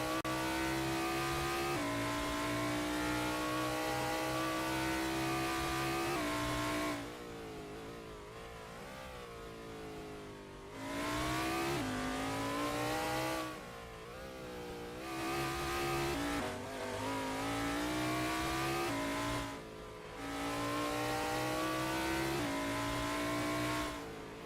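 Race cars lapping a track in a racing game, a single engine note repeatedly revving up through the gears and dropping off into corners in a steady, cyclical pattern, fairly quiet and heard alone.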